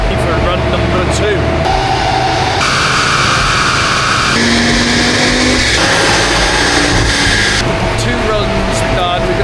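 An Audi RS3 revs hard on a dyno rollers run, a loud sustained engine roar climbing through stepped gear changes with tyre-on-roller noise, while a voice talks over it.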